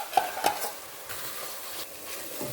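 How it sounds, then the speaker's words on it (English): Boiled, dried tomato blend for Nigerian jollof rice being stirred and fried in a pot, a soft continuous sizzle broken by a few sharp spoon scrapes and taps near the start, close up with no talking. "I stir it in together and I keep frying it"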